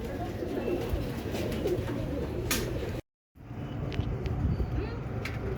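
Pigeons coo softly amid a steady outdoor background hum, with low repeated calls throughout and a brief dropout midway. Someone talks over the cooing.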